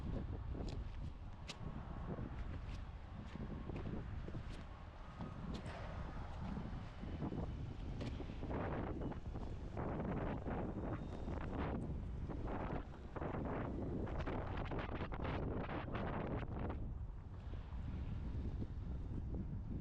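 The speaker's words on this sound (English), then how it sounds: "I do not like that wind right now." Wind buffets the microphone beside a flatbed truck while steel is being tarped, a continuous loud roar with gusts that swell and ease.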